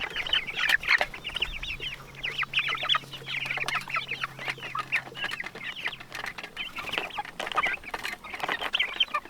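Many chickens cluck and chatter continuously in a busy flock, close by, with a low steady hum underneath.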